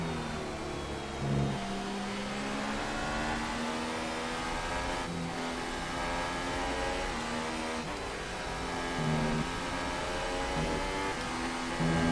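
Formula 1 car engine in the F1 2018 racing game, revving hard after a downshift to first gear mid-corner during the Mexico Grand Prix, a loud continuous high-pitched whine with rising and falling harmonics throughout and no voices.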